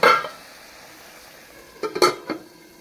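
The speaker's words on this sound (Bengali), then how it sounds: "অল্প জল দিয়ে সবজিগুলারে ভালো করে মশলার সাথে কষাবো" Vegetables cook with spices and a splash of water in a pan. A loud stir opens, then a low sizzle runs underneath, and a few short clinks and scrapes of a spoon against the pan follow near the end.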